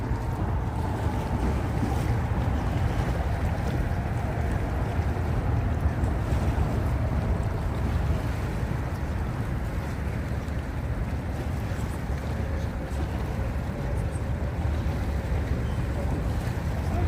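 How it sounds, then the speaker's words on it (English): Water on the Hudson River laps and rushes steadily, with a broad continuous wash and low boat rumble under wind noise and no talking. "Let's listen to the water for a moment."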